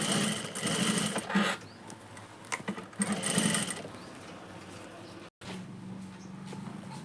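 A sewing machine stitching cloth for a child's cap runs in bursts of whirring, rattling needle motion with short pauses between runs, fairly close and moderate in level, with a quiet voice speaking in the background.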